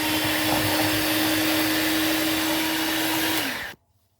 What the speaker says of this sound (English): And then just whisk them up on a low speed.